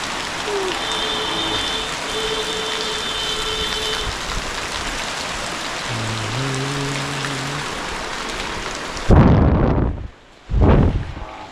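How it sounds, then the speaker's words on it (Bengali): Heavy rain pours steadily, a dense loud hiss filling the scene, with faint reversing beeps and a passing engine tone mid-way before close, sharp bursts of wind or breath buffet the microphone near the end. "প্রচুর বৃষ্টি হচ্ছে"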